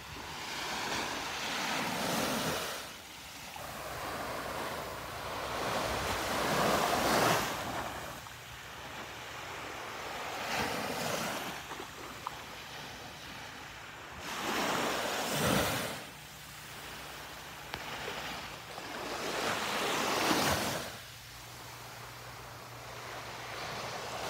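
Ocean waves roll in and break on a quiet, empty beach, each surge swelling to a loud wash and receding in a slow repeating rhythm, with some wind noise on the microphone and no voices.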